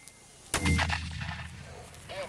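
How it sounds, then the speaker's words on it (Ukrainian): One loud 60 mm mortar firing, an abrupt blast followed by a rolling echo that slowly dies away, with faint sounds after. "Увага! Міномет! Постріл!"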